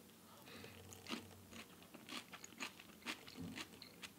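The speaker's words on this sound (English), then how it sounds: "So let's have a taste test here." Bites and crunching chews of food loaded with extra pickles, a series of crisp, close crunches spaced through a few seconds with soft mouth sounds between.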